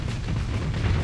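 Missiles exploding in a video game make a dense, continuous low rumble of booming blasts, loud and close, with no clear gaps between them.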